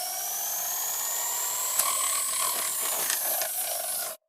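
A small homemade helicopter turbine driven by compressed air from a bottle spins with a steady, high-pitched whirring hiss that runs on for about four seconds and then cuts off abruptly, with a few faint clicks along the way.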